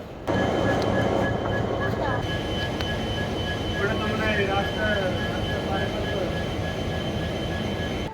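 Steady rumble of the Darjeeling Mail idling at the New Jalpaiguri station platform, continuous and fairly loud, with faint squeals and a voice talking in the background.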